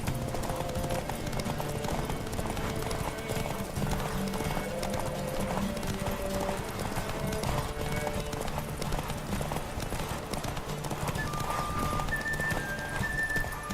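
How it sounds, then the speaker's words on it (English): Galloping horse hooves during a race in The Witcher 3 video game, a quick, steady clip-clop beat that runs throughout under game music and ambience, with a brief whinny-like tone near the end. "Don't spare the horse!"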